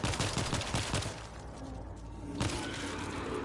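Gunfire in the World War Z video game aimed at a gas tank, a rapid burst of close shots at the start and then a second sharp report partway through, with no talk.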